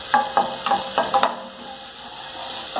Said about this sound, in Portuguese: Vou dar uma refogadinha no alho, para depois colocar a cebola.